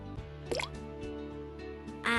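A rock dropped into water and sinking gives a short splashy plop near the middle, with small drips around it and a second splash just after.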